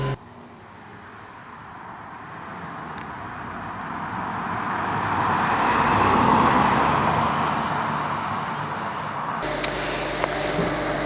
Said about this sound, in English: we were just taking some background footage of the car on a rural road and doing the U-turns